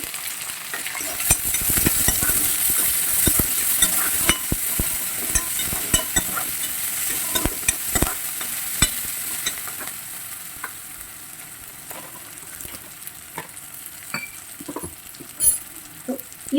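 Garlic, chili, curry leaves and onion frying in hot oil in a home kitchen for kovaikka poriyal, with a steady sizzle broken by sharp clinks and scrapes of a spoon stirring the pan.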